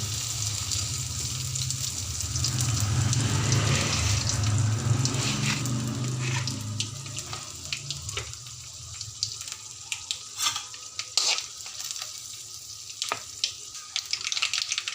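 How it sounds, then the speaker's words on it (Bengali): Cumin, mustard and fenugreek seeds temper in hot oil for besan kadhi, giving a steady sizzle and crackle that is loudest early, then thins into scattered pops and ticks near the microphone with no talking. "জিরে, সর্ষে, মেথি ফোড়ন দিয়ে দেব।"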